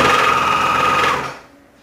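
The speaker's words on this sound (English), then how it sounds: "I'll try not to dismantle my overlocker while I'm doing it" An overlocker runs steadily along a skirt seam, a loud, close, continuous whirring stitch that holds for over a second and then cuts off abruptly, with no talking.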